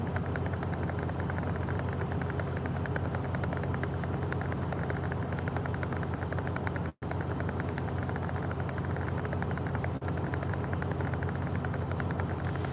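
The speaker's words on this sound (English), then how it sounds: "That would be a semi-truck idling." A semi-truck's big diesel engine idles in a steady, throbbing rumble that continues without letup, broken only by a brief cut partway through.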